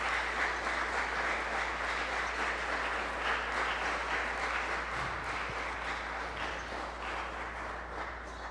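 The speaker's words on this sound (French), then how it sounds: "Je vous invite de les applaudir vivement." Applause at a church Mass celebration after drumming, a steady, even crackle of many hands clapping heard from some distance, with a low hum underneath and no talking.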